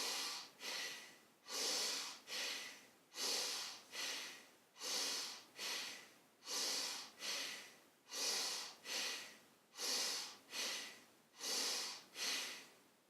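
Bhastrika pranayama yoga breathing: forceful rhythmic breaths through the nose, pumping in a steady repeated cycle of about a dozen strokes, close and clear with no talking.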